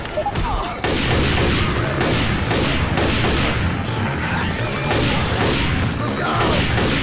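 Rapid, dense gunfire from Left 4 Dead 2 rattles through the whole stretch in loud, repeated volleys with heavy low-end booms, and a voice is briefly heard underneath the shooting.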